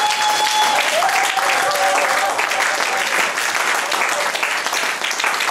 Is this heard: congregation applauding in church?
yes